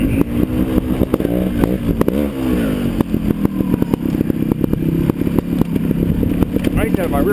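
A trail motorbike descends a steep dirt trail. Its engine rumbles steadily up close, with repeated blips and revs rising and falling throughout.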